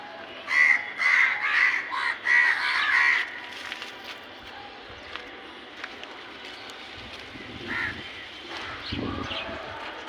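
Birds call in a backyard with a run of harsh, repeated caws that are loud at first, then fade to quieter scattered calls over outdoor ambience.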